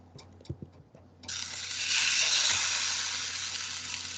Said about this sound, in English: And you want it to sizzle like that, that's how you know the pan's hot.